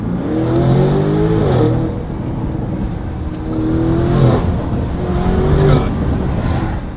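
A Lamborghini's exhaust barks through repeated loud revving bursts, each rising and falling in pitch, three clear pulls heard close and alone.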